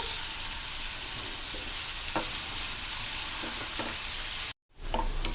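Radish pieces fry in a hot pan for a roti pachadi while being stirred, giving a steady, loud sizzle with a few scraping strokes before a brief cut in the sound.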